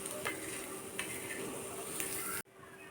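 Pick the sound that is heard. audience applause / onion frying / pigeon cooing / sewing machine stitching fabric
onion frying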